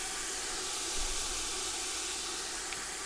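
Pizza sauce simmers in a pan with a steady, soft, broad hiss and faint sizzle, continuous and even, with no voices.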